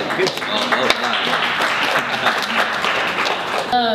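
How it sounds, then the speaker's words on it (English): A crowd claps and applauds steadily for a few seconds, dense and lively, as a voice speaks over the clapping. "Let's give a massive round of applause"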